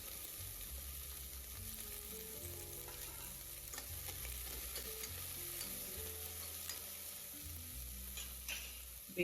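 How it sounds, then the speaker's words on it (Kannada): Sliced onion dropped into hot oil already crackling with mustard seeds, cumin and split chickpeas, sizzling steadily at a low, quiet level while a spoon stirs now and then. "ಈರುಳ್ಳಿ ಹಾಕ್ಕೊತಾ ಇದ್ದೀನಿ"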